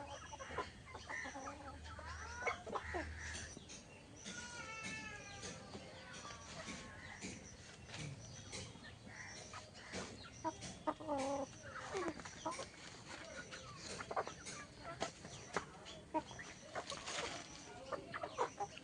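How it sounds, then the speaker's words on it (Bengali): A flock of chickens clucks softly and continuously while eating, with scattered short calls over a low, steady farmyard background. "কি গো, মুরগির ধারে তো দাঁড়িয়েই পড়লে। দেখছি ওরা খাচ্ছে।"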